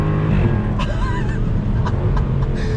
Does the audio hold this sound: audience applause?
no